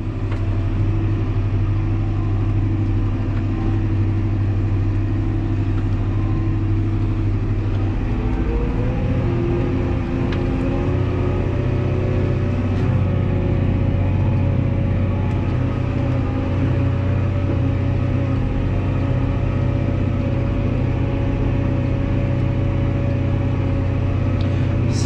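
Fendt 314 tractor engine running steadily at 1900 rpm, a loud continuous diesel drone with a deep low hum throughout and a slight shift in tone partway through, no talking.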